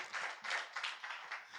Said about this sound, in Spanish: Un aplauso al Señor, por favor.